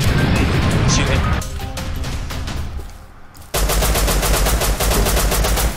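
Gunfire in the video game Rust: rapid bursts of shots, close and loud, shifting to a fast steady automatic rattle in the final seconds.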